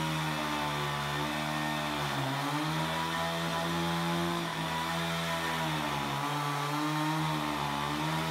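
A chainsaw cuts steadily through a curved, bulging ironwood (lim) tree stump, running loud and continuous at a constant drone for the whole stretch with slight pitch dips as it bites into the wood.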